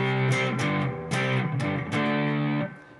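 Distorted electric guitar chugging through part one of a verse, rhythmic chord strikes with short gaps, close and loud, played alone without speech.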